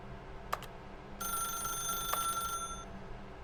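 An old-style telephone bell rings in The Stanley Parable video game, a sustained electric trill lasting over a second after a couple of short clicks, clear and close in a quiet room.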